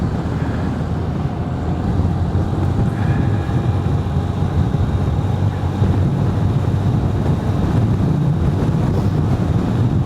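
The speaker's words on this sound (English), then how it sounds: "I'm riding into a significant headwind." Strong headwind buffeting the microphone on a moving Honda CB125F motorcycle: steady, loud, low rushing roar with the engine's faint hum underneath, continuous for the whole stretch.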